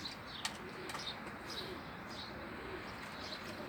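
Pigeons coo softly in a flock, low repeated calls over a faint outdoor hum, with a brief flutter or tap near the start and a few higher chirps scattered through.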